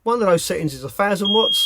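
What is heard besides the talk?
gas alarm beeping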